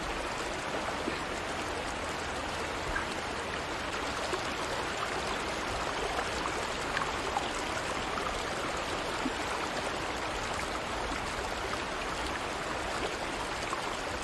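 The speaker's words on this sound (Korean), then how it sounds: "강물 소리가 이미 시끄럽게 나고 있기 때문에" A river runs loud and steady, its broad rushing wash of water unbroken from start to finish with no voices over it.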